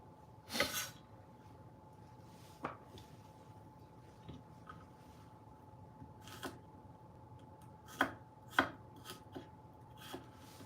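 A knife chops garlic cloves on a board in sparse, soft knocks and a few quick clusters of taps, close and quiet over a steady low hum.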